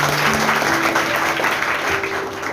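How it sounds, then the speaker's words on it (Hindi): An audience claps at a motivational speech, a loud, continuous patter of many hands, with a low hum running beneath it. "इस पर एक बार आप लोग ताली बजाइए सबसे।"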